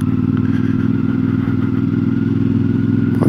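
A CFMoto 450MT motorcycle engine runs steadily at about 2000 rpm in third gear, a loud, even low throb heard close up from the rider's position, with no talk.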